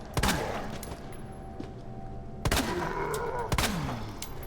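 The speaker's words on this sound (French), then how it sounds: "si je veux récupérer mon couteau, faut que je le flingue." Gunfire in the Resident Evil 2 video game, with three sharp shots spaced a second or so apart over a continuous droning game soundtrack, and no talking.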